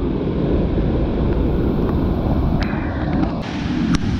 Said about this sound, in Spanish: Está bien lleno, la verdad está bien lleno, está bien grande el río.